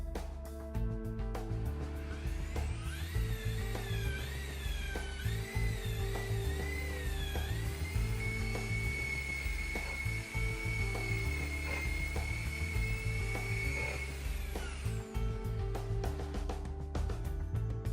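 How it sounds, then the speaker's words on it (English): Power buffer polishing a car headlight lens with Malco Headlight Lens Repair Polish, a continuous close motor whine with a pitch that rises and wavers, over a steady low rumble with faint knocking. "add a small amount of Malco Headlight Lens Repair Polish to the headlight, and buff the lens until you achieve a clear finish"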